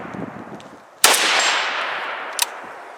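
A Palmetto State Armory GF3 AK rifle fires a single loud, close shot with a long reverberating tail, followed by a fainter sharp crack from farther off at an outdoor range.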